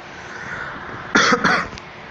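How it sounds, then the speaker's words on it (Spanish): A man with a sore throat gives two close, loud coughs in quick succession, followed by a faint short catch, against a quiet background hum. "a veces me da la tos y me quedo sin voz"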